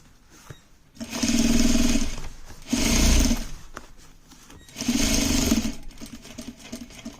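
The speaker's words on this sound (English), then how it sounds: "jeans usually are for heavy duty sewing machine" A heavy-duty sewing machine top-stitching a denim jeans hem runs in three loud bursts of rapid mechanical stitching, separated by brief pauses.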